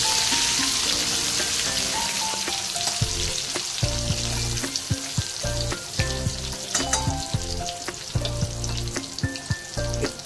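Food fries steadily in a pan before fish goes in, a loud, close, continuous crackling sizzle with dense popping and occasional low knocks of stirring, with no talk over it.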